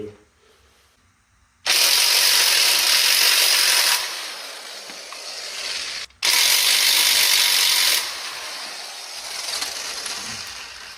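A socket ratchet, used with a 12-point socket, working on the rear subframe bolts of a 240sx, giving two loud, close bursts of rapid clicking separated by a brief pause, with a quieter stretch after.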